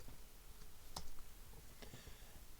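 A few scattered clicks and taps on a computer keyboard as a word is typed in, quiet and close over a steady background hiss, with no speech.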